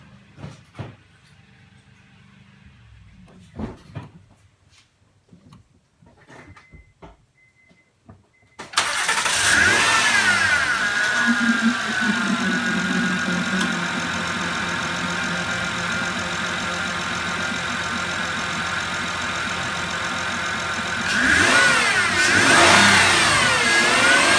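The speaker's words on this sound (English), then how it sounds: "I'm gonna go ahead and start the car." A 2010 Honda Odyssey engine cranks and starts after a few seconds of quiet shuffling, then settles into a steady, loud idle up close, with a brief rev near the end; no one speaks.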